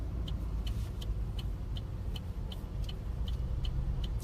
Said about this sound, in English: There's a RV pulling in there now.